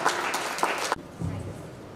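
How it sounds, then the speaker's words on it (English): Audience applause rings out at a Q&A session on physical wellbeing and then cuts off abruptly after about a second, leaving quiet room tone with a faint voice. "a big round of applause for them"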